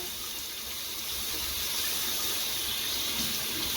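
Steady stream of tap water runs into a sink while makeup brushes holding eyebrow pomade and powdered eyeshadow are washed, a continuous close hiss with no talking.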